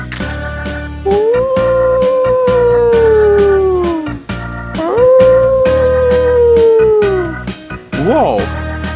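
A wolf howls twice in a children's animal-names cartoon, each a long, loud, falling wail lasting about three seconds, followed by a brief rising yelp at the end.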